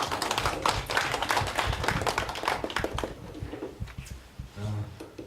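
Audience at a forum on non-regular workers claps to welcome a poet to the lectern for a keynote. Brisk, crisp hand claps are dense and lively at first, then thin out into scattered claps and fade.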